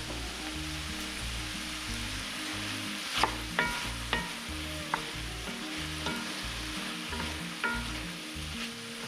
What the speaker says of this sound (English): stirring every couple of minutes